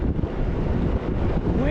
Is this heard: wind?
yes